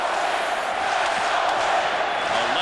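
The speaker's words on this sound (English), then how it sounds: "The Let's Go Wings chant has gone up from the sold-out crowd here at Joe Louis" Sold-out hockey crowd at Joe Louis Arena in Detroit chanting "Let's Go Wings" during a 1995 playoff game against Dallas, a dense, steady roar of many voices filling the arena under a commentator's voice.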